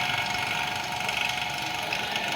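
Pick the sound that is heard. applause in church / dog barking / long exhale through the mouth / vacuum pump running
vacuum pump running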